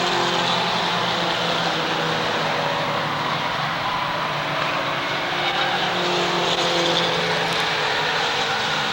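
Four-cylinder mini stock race cars at Waterford Speedbowl, a continuous blended engine roar from the pack circling the track, loud and steady throughout with no talk over it.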